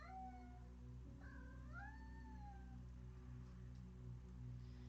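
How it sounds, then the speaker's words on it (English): Faint cat meows rise and bend in pitch in the background, a short cry followed by a longer, drawn-out yowl, over a steady low hum. "Kitty song in the background."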